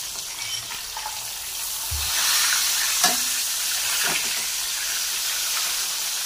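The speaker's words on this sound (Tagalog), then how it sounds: "So piprito na natin ba" Flour-dredged chicken pieces sizzle in a pan of hot oil, a steady soft hiss with a few faint clicks and scrapes as the pieces are turned.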